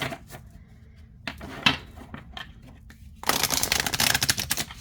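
A few scattered card clicks and taps, then a dense, fluttering riffle as a deck of oracle cards is shuffled, close and crisp.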